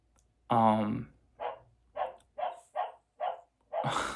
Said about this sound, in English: Freaking dogs barking.